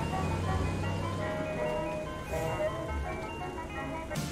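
Cartoon ice cream trucks play their chiming jingle melody loudly over low engine hum, with a brief noisy burst midway and another at the end.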